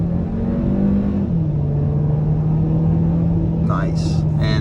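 A 2022 Hyundai Kona N-Line accelerates on a multi-lane highway, its engine holding a loud, steady drone over road roar, and a brief voice rises near the end.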